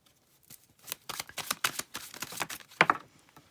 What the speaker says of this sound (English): I don't know why I'm shuffling.